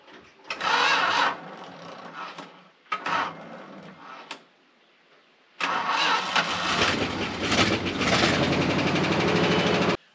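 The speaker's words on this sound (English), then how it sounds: "And this has the Chrysler starter. You've heard them before. They whine." A Dodge dump truck with a Chrysler starter cranks in three bursts, the starter whining loudly, a short try, a brief one, then a long sustained crank with a slow engine turning over, close and alone.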